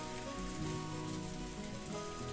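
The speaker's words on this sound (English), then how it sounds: "The wind and rain were strong" Rain falls in the Umineko When They Cry visual novel as a steady, dense hiss of drops on surfaces, filling the whole moment with no voices over it.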